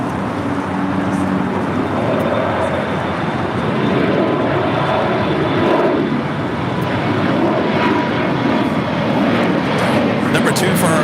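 An aircraft departs from LAX, a loud, sustained engine roar filling the air and holding steady throughout.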